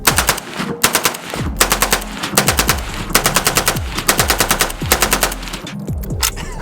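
AK-47 rifle fitted with a muzzle brake firing rapid loud bursts outdoors, sharp blasts repeating in quick strings with brief pauses between them, close and dominant.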